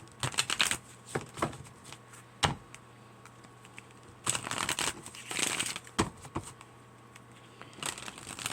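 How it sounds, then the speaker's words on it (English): A tarot deck riffled and shuffled in several bursts, crisp flapping and rattling with short pauses between, close by with no talking. "let's give this deck a good shuffle."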